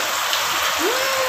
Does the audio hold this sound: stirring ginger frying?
no